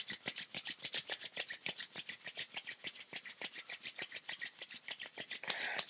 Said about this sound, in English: You rub the hands together, creating heat.